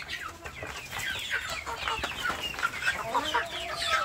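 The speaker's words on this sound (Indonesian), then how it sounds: "satu kelompok ini satu jago dan kurang lebih 10 betina ya" Free-range village chickens, one rooster and about ten hens, cluck and chatter in short bursts, a few birds near and others farther off, over a soft outdoor background.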